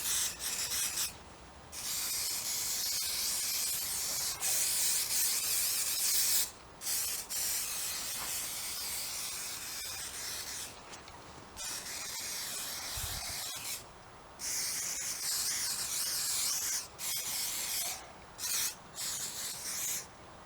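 An aerosol can of waterproofing spray is applied along the seams of a tent in a series of close hissing bursts, each lasting a few seconds, separated by brief pauses.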